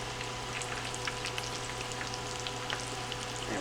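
Philly cheesesteak egg rolls frying in hot oil, a steady dense crackle and sizzle with scattered pops running continuously throughout, close and fairly loud with no voices.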